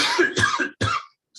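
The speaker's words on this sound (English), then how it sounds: "I'm gonna cough for a moment." A person coughs several times in quick succession, close and fairly loud, with short harsh bursts separated by brief pauses and a final cough starting at the end.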